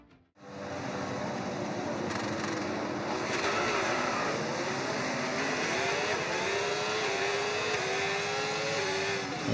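In a racing video game, a field of race cars rolls through the formation lap with a steady, dense engine drone that holds at an even level throughout.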